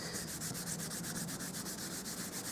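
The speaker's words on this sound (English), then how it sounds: "So what I'm going to do now is I'm going to rub my embossing buddy." An embossing buddy rubbed over a card base, a soft, rapid back-and-forth scuffing with steady rhythmic strokes, close and quiet, alone.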